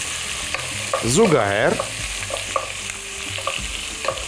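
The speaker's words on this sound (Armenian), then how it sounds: "Եվ խառնում ենք։" Bigos, a hearty cabbage and meat stew, is stirred in a frying pan, a scraping stir and soft sizzle close by, with a brief swirling burst near the start and quieter sizzling after, one spoken word over it.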